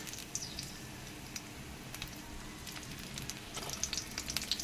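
Whole green chillies dropped into hot oil with black mustard seeds and five-spice in a wok, a soft, steady crackling sizzle with small pops, fairly quiet and close.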